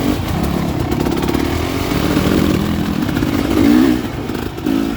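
A motorcycle engine rumbles loudly and close as the bike pulls away in first gear during a wet poker run, the throttle swelling toward the end with no voices over it.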